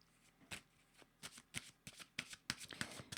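Playing cards riffled and shuffled by hand for a card reading, a quiet, close run of soft irregular flutters and taps with no voices.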